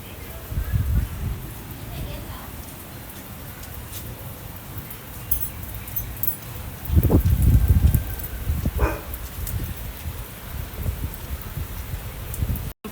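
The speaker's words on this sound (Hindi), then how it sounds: "Finally rain in Delhi." Rain falls in Delhi as a steady hiss that fills the whole stretch, with a few louder rustling bursts and faint barking mixed in.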